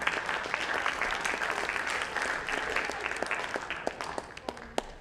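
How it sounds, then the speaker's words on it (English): Students from Leadership in Action receive a round of applause at a leadership summit, a steady crowd clapping with distinct sharp claps on top, tapering slightly toward the end. "give a round of applause to our leadership"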